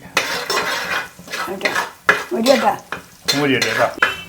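Onion and curry leaves sautéing in a pan for a Kochi-style roasted-coconut beef tongue curry, heard as loud bursts of stirring and scraping with a sizzle underneath, arriving in about four strokes separated by short pauses.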